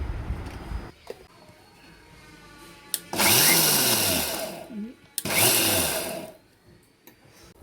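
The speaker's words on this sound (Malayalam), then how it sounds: "കുറച്ച് മഞ്ഞൾപ്പൊടിയും കൂടി ചേർത്ത് ഒന്ന് കറക്കിയെടുക്കാം" A mixer grinder whirs through coconut and spices with turmeric for a pumpkin leaf thoran, running in two loud bursts of a few seconds each, spinning up and winding down, with quiet handling noises between them.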